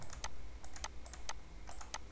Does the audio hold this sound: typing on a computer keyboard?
yes